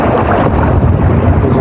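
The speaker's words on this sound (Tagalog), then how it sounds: "Napakalakas kasi ng hangin." Strong wind gusts hard against the microphone at sea from a small fishing boat in rough weather, a loud, dense roar with no pause across the short stretch.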